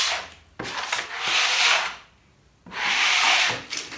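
Thin coat of glue being spread along plywood edges with a tool, two long rasping strokes each lasting over a second, close and fairly loud, separated by a brief pause.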